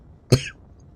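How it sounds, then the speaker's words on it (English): One short, sharp cough from a man, very close and loud, set against quiet background. "Sorry for coughing in your ear."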